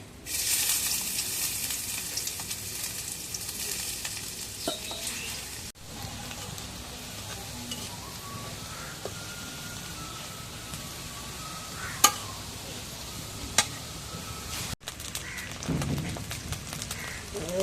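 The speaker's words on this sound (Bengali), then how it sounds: "তেলের মধ্যে এখন পেঁয়াজ দিই" Onions sizzling in hot oil in a heated pan (kadai), a steady soft frying hiss with occasional sharp clinks, no talk.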